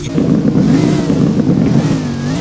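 SWFL ST1 car engine revving close by, a steady, loud, throaty rumble held for a couple of seconds.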